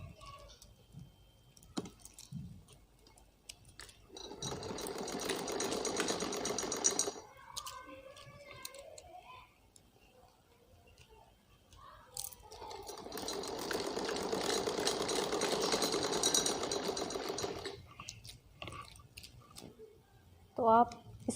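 A sewing machine stitches the lining of an umbrella frock in two long, even runs close by, separated by fabric handling. Someone talks between and around the runs.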